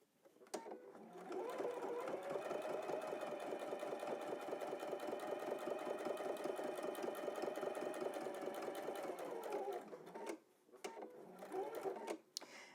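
A sewing machine stitching a cathedral windows quilt block runs in one steady, close, even-paced hum for about ten seconds, then stops, followed by a few faint handling clicks.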